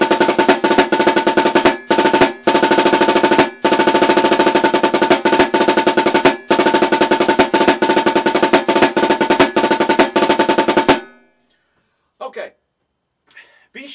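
Snare drum played with drumsticks through the Connecticut Halftime rudiment, a loud, fast, continuous stream of crisp strokes with brief gaps, close up, ending abruptly before a few quiet trailing sounds.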